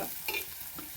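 Onions sautéing in a pan with stirring, a steady close sizzle broken by a few scraping strokes of a spoon, with no one speaking.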